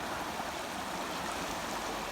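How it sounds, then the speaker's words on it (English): Water pours from a ditch into a flooded pasture after heavy rain, making a steady rushing, splashing flow that sounds close by and constant throughout. "Water comes in from both sides."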